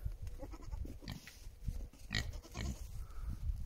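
Pigs grunt and snuffle at low volume in a barnyard, with scattered short animal noises and rustling.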